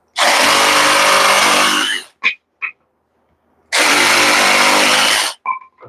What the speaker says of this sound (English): we're just going to use a handy dandy jigsaw and cut a couple short lengths